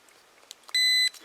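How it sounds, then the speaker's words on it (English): A single sharp electronic beep about a third of a second long from a non-contact voltage detector held near a live wire's insulation, clear and close against a quiet background. "If it beeps like that, that means that you're live"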